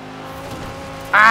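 ItalDesign Zerouno supercar racing in Forza Horizon 4, a close engine drone with tyre noise that rises sharply into a high-pitched rev near the end.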